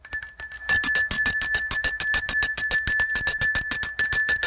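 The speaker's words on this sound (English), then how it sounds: "I'm going to count up to 3 and then ring the bell." A hand bell rung in rapid, steady strikes after a brief moment of quiet, its bright ringing tone sustained and close for several seconds with no talking.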